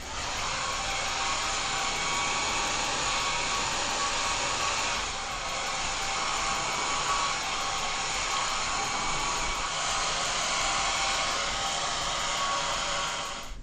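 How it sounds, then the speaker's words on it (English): A hair dryer blow-dries hair with a steady, continuous roaring whoosh held close and loud throughout, alone with no voices. "I blow dried my hair"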